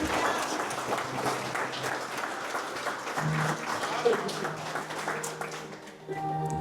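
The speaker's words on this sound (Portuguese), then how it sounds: "Dê uma salva de palmas para Jesus" Scattered applause from a congregation at a Portuguese-language church service, a dense patter of claps that holds steady for several seconds with some background murmur.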